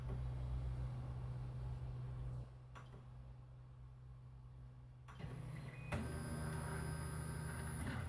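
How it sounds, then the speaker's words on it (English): A new 3D printer runs its first print, a keychain, on an unleveled bed: a steady motor hum and whir with shifting pitch that changes character partway through, close and continuous with no talk. "So this is this machine's first print."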